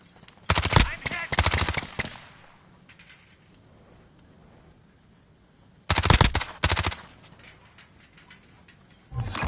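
Call of Duty Modern Warfare gunfire in two sharp automatic bursts, each a rapid string of loud cracks, separated by quieter game ambience and low voice chatter.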